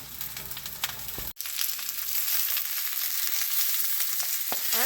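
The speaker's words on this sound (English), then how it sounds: "that's the collards in the pan with that onion and bacon grease" Collard greens, big leaves cut in half, sizzle and crackle steadily in a skillet with onion and bacon grease, a sharp clatter early on, then continuous close frying hiss.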